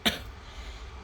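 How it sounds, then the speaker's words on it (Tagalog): A single sharp cough bursts out at the start, close and fairly loud, then trails into quiet room noise with no talking. "Grabe ang ubo ko."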